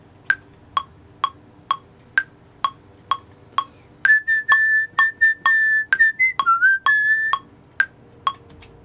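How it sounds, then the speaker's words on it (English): A person whistles a short melody up close for about three seconds over a steady metronome click, which ticks alone before and after the whistling. "So let me whistle for a minute."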